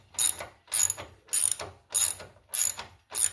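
A ratcheting 1/2-inch wrench working a riding mower axle bolt, six evenly spaced bursts of clicking ratchet strokes about half a second apart, loud and close with no talking.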